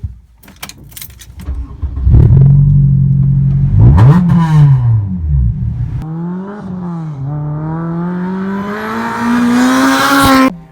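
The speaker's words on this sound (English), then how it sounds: "As the supercharger whines and that exhaust booms and spits flames" A supercharged Honda Integra Type R DC5 idles, then revs and pulls away hard, its engine note rising through the gears with a high supercharger whine building loudly toward the end beneath a booming exhaust.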